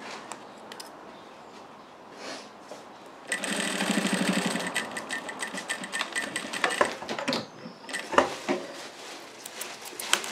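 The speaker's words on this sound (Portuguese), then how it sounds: "E vamos costurar aqui, ó. É uma costura na beiradinha, só pra prender mesmo a sanfoninha da bolsa." Sewing machine stitching along the edge of a small bag to hold down its accordion gusset, starting after a few seconds and running steadily up close, then giving way to fabric handling and clatter.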